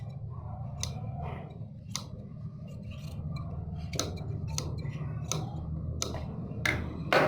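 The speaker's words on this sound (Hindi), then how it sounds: "इसके बाद फिर मार्जिन काट लें फालतू" Scissors snipping away excess fabric margin after stitching a back neck design on a garment, a series of short sharp cuts spaced about a second apart, close by over a steady low background hum.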